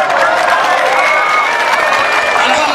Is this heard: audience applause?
yes